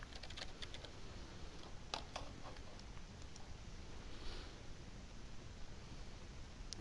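Rapid clicking of a computer keyboard as a username and password are typed in, with steady light keystrokes over a faint constant hiss and no talk.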